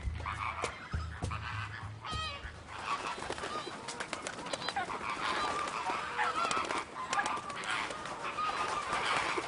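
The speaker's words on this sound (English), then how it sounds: "Hundreds of greater and lesser flamingos can be viewed swimming or wading the waters of the lake, or congregating on small islets." Flocks of greater and lesser flamingos calling at a lake in Arusha National Park, a dense, fairly distant chorus of goose-like honks and chatter going on continuously.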